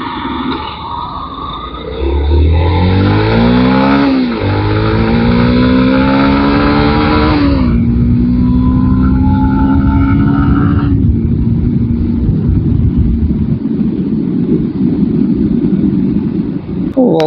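Evening rush-hour road traffic in Bhubaneswar, loud and close, with a car engine revving and rising in pitch through the gears, then a steady roar of passing vehicles and background traffic noise.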